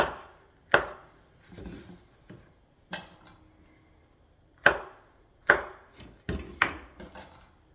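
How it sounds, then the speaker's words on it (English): A knife chops small mushrooms into chunks on a board for beef stroganoff: a handful of sharp, close, irregularly spaced chops with quiet gaps between them and no voices. "I like a bit of texture with the mushies in this dish, so chop them slightly differently rather than just slicing them"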